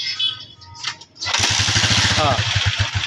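A motorcycle engine cranks and catches, then settles into a loud, steady putter close by, preceded by brief talk.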